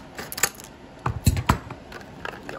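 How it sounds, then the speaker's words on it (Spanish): Poultry shears snip through toy packaging in a few sharp, close cuts and crunches, spaced irregularly with a cluster of louder snips in the middle, with no talk over them. "con las tijeras de pollero."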